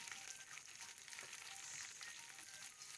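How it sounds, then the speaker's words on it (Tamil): Faint, steady sizzling of sliced onions sautéing in oil in a pan, with no talking. "வெங்காயத்தை கொஞ்சம் நேரம் வதக்கணும்."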